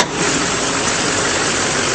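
A 2008 Chevrolet Silverado 3500 pickup truck's engine runs loud and steady close to the microphone, a constant broadband rumble with no voices.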